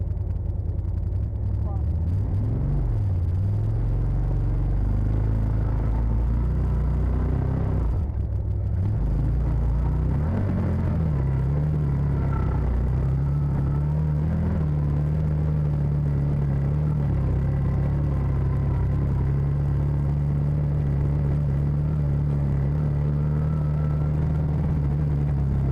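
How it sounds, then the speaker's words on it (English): Side-by-side off-road vehicle climbing a trail in four-wheel drive with the differential locked, a loud continuous low engine rumble that shifts in pitch as it strains uphill, with a person talking over it. "I'm trying not to roll backwards, and trying right now I'm going into diff lock, so I am actually in 4-wheel drive and not 3-wheel drive."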